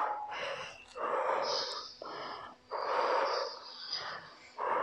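Heavy, forceful exhalations during a home HIIT workout, a series of about five loud breathy puffs in an uneven rhythm, close and alone.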